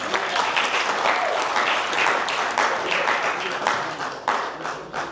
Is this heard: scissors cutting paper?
no